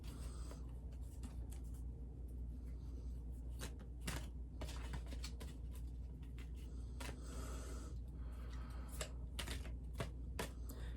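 Tarot cards are handled and drawn from a pile, making a run of close, dry taps, flicks and shuffling rustles at an uneven pace. The sound is quiet and there is no talking.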